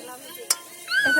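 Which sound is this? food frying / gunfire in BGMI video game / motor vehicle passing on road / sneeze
food frying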